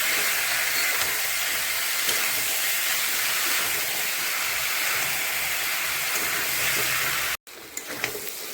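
Boiled jackfruit with potatoes sautéing in a pan, giving a steady broad hiss and sizzle that runs unbroken for about seven seconds, cuts out briefly, then resumes.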